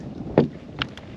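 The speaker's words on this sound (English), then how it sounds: "that wind is definitely blowing pretty good" Wind gusting over a bass fishing boat on a warm day, a steady rushing wash with a couple of brief louder buffets.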